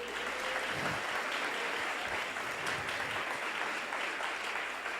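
A congregation at a cell-group conference applauds warmly for a pastor, a sustained wash of many hands clapping at a steady level throughout.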